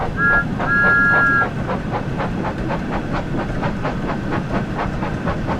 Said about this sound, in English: Use the throttle once again to apply some power to get Thomas moving.